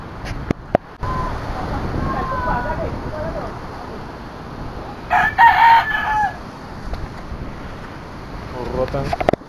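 A rooster crows among chickens outdoors during a typhoon, set against a constant roar of wind and rain, with scattered clucks and a louder crow partway through.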